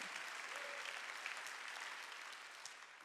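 A church congregation applauds at a Sunday worship service, a steady, dense wash of many hands clapping that carries evenly through the whole stretch at a moderate, somewhat distant level.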